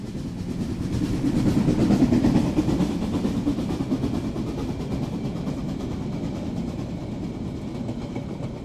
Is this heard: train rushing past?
yes